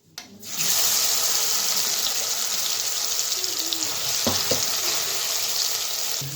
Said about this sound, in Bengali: তো মেখে রেখেছি সয়াবিন আর আলুটা দিয়ে দিব।